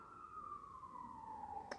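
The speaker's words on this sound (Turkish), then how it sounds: "Dışarıdan ambulans sesleri geliyor." A distant ambulance siren wails faintly with a slowly falling tone, heard from outside over a quiet background.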